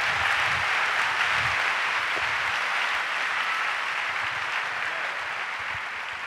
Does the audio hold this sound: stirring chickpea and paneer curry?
no